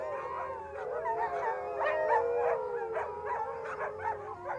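Several sled dogs howl together in a sustained, wavering chorus with occasional yips and barks, fairly close and loud, out in snowy mountain country.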